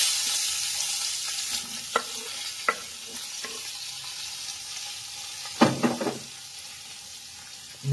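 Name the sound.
drumsticks and bottle gourd frying in a pan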